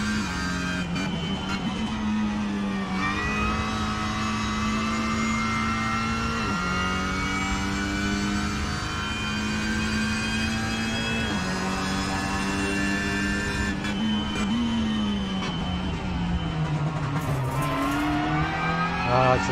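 A 2022 Cupra TCR on the move, its engine revving steadily with gear changes that drop and then raise the pitch, loud and continuous throughout, with no talking.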